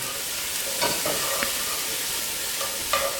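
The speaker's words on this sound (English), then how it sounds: "These onions will take probably about 5 to 10 minutes until they're nice and soft and lightly brown" Onions fry in a pan for chicken paprika, a soft continuous sizzle with a few scraping stirs of a utensil against the pan, close by and without any talk.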